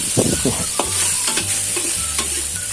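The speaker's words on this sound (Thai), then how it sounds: "ผัดให้หมูสุกเลยนะครับ" Minced pork stir-frying in pork lard for a Thai basil stir-fry, a loud close sizzle with quick scraping spatula strokes and a low hum underneath.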